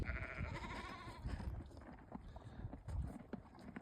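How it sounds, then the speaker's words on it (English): Ewes and lambs inside a barn bleat at moderate distance amid a busy, rustling background of shuffling hooves and movement, the calls overlapping faintly, with no talking. "There are 3 ewes in this barn with 6 lambs"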